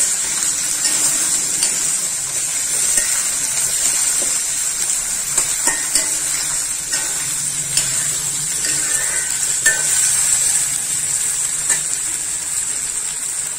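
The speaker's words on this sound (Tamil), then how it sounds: "தக்காளியும் போட்டுப்போம். தக்காளியும் நல்லா வதங்கணும்." Two chopped tomatoes sauté in a pan, a steady bright hiss of frying with occasional light spatula taps, moderately loud and continuous without speech.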